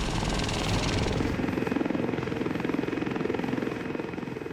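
A Lynx military helicopter flies close by, its rotor beating in a fast, steady chop over a loud turbine roar that fills the whole stretch without pause.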